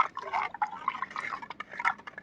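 A wet mash of decomposed rice and waste decomposer liquid is stirred by hand, giving soft, irregular squelching and dripping splashes, close and fairly quiet.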